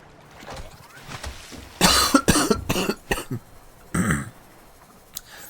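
A person coughing, several harsh coughs in a close burst with a short pause and one more cough and a throat clear after, loud against a quiet game background.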